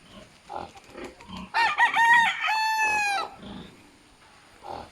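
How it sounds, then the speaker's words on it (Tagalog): Chickens at a rural spot in Laguna: a rooster gives a loud, drawn-out crow amid scattered clucking from the flock, fairly close, with low background noise. "Ito may ang dami nilang manok dito."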